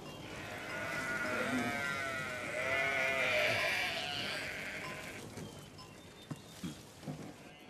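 Sheep bleat in a pastoral setting, several overlapping calls rising and falling across the first five seconds at moderate distance, followed by quieter scattered thumps and movement.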